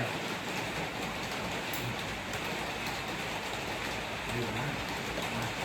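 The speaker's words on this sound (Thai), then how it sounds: "ฝนมันยังตกอยู่" Steady rain falls on surfaces outdoors, a dense continuous hiss at even loudness throughout, with a faint voice in the background.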